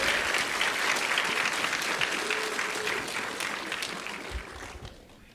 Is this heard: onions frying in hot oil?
no